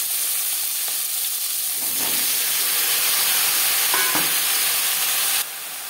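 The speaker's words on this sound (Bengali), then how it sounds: "5 ফোড়ন তেজপাতা ভেজে নেওয়ার পর দিয়ে দেবো টুকরো করে কেটে রাখা বেগুন" Chopped brinjal pieces fry in a little oil after a panch phoron and bay leaf tempering, giving a loud, continuous close sizzle with occasional stirring scrapes, and the hiss drops slightly near the end.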